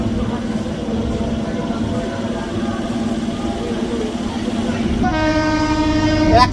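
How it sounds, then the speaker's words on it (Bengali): Panskura–Digha EMU special local train pulling out of Panskura station, a steady loud rumble with a horn blast sounding near the end; a voice is faintly present. "একেবারে কিন্তু কারেক্ট টাইমে কিন্তু পাঁশকুড়া স্টেশন থেকে ট্রেন ছাড়লো"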